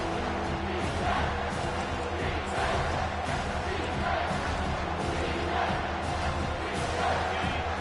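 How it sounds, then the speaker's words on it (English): A large home crowd at a football game roars steadily and densely, a loud continuous wall of cheering with no breaks. "Here comes his home crowd"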